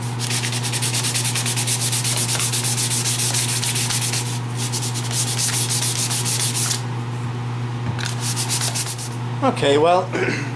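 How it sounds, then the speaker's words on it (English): A wooden picture frame is hand sanded up close, giving a continuous rasping scrub in long steady strokes that pause briefly near the end, followed by a short rustle. "So I'm going to go ahead and sand this up"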